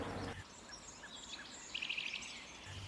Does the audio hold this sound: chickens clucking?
no